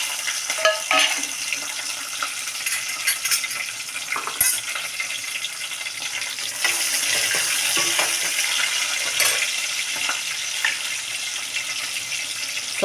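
Curry leaves and green chillies fry in a pan with a steady, hissing sizzle and occasional stirring clinks, continuous and close throughout with no voices.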